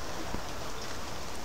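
Steady rain falls outdoors as a dense, even hiss of drops hitting surfaces, unbroken throughout with no talking over it.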